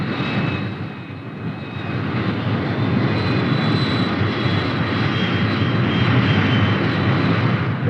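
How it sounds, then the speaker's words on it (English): Fighter bomber aircraft taking off from an air base, a loud, steady jet engine roar that holds throughout, dipping briefly then swelling again, with a thin high whine riding on top. "Back at the base, the fighter bombers take off."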